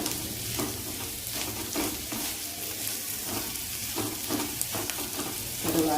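Spices frying in a pan for a Mumbai-style vada pav filling, a continuous close sizzle broken by repeated stirring scrapes, with no talking.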